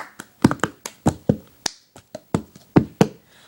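The cup song rhythm is played by hand: sharp claps and hollow cup taps land in a quick, syncopated pattern of about a dozen close, crisp hits with no voices.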